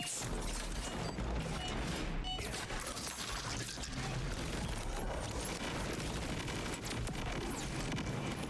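Dense, continuous rapid-fire submachine gun shooting from a video game, loud and unbroken throughout with crashing impacts layered over it and no talking.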